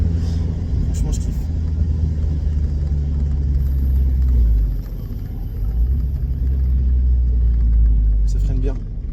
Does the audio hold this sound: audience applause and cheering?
no